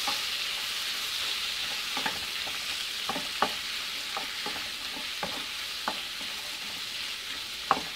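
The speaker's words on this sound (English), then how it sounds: "Stir the shrimp." Salted shrimp sizzles steadily in a hot pan while being stirred, with scattered sharp spatula clicks and scrapes over a constant close frying hiss.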